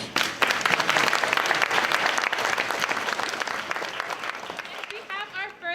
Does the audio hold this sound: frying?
no